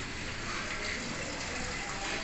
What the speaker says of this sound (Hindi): अब देख सकते हैं ये चल रहा है इसका जेट स्प्रे फीचर